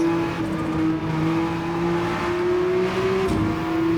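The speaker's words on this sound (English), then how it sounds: "It's a race car, of course." A race car engine in a driving video game holds a loud, steady droning whine, its pitch creeping gradually upward, alone without talk.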